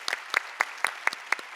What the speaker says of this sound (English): Sven Roman, give him a huge round of applause